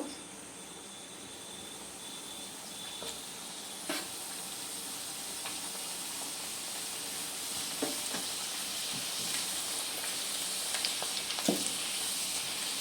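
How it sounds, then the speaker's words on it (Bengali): Homemade potato chips fry in oil heated to medium, making a soft, even hiss with scattered small crackles and occasional stirring. "এবার আমি চিপসগুলো এর মধ্যে দিয়ে দেব।"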